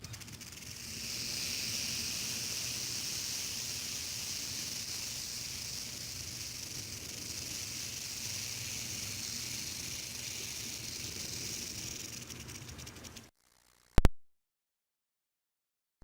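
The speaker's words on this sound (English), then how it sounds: "And another native westerner, the rattlesnake." A rattlesnake at a zoo gives a steady, dry buzzing rattle that holds evenly for about thirteen seconds, then cuts off with a sharp click into silence.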